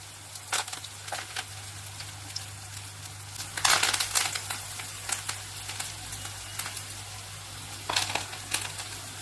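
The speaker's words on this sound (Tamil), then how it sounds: "இப்போ பாருங்க, நம்ம மிக்ஸ் பண்ணி வச்சிருந்த மாவை சின்ன சின்னதாக இந்த மாதிரி தட்டி இப்போ எண்ணெயில் போட்டு ஃப்ரை பண்ணிக்கலாம்" Small pieces of pakoda batter crackle and sizzle in hot oil, with sharp bursts of popping over a steady low hum. The frying stays close and fairly quiet.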